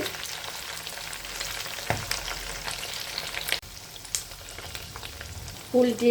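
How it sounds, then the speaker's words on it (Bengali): Pieces of cooked beef kebab frying in hot oil give a steady, close crackling sizzle, broken by occasional scraping stirs and a brief louder clatter near the end. "রান্না করে আবার এটা তেলে ভাজা হচ্ছে"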